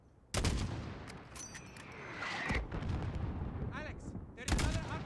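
Mortar and gunfire in Call of Duty: Modern Warfare: sharp heavy blasts at the start and end bracket sustained battle noise, with scattered shots and game chatter in between.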